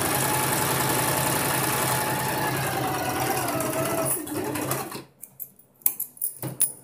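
A sewing machine runs in a steady whirring hum while stitching a boat neck blouse, then stops after about five seconds, followed by a few soft clicks and handling taps.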